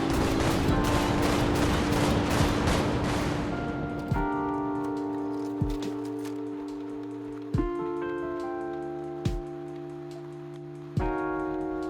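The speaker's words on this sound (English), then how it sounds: "we got the Nuka Launcher, which is still the favorite auto grenade launcher of many people out there" Rapid bursts of automatic grenade-launcher fire from the Nuka Launcher in Fallout 76 rattle densely at first, then give way to several spaced, booming impacts with ringing tonal tails, with no speech over them.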